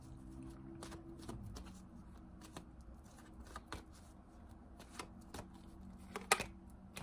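Tarot cards being shuffled by hand, a quiet run of soft riffling flicks and papery taps in irregular bursts, close and faint, with a brief sharper snap near the end.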